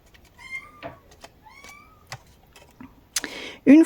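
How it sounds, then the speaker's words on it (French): A small kitten meows in a few thin, high, close cries, each short and rising, among soft rustling and a louder bump near the end, with a person talking briefly. "il y a mon petit bébé chat qui miaule"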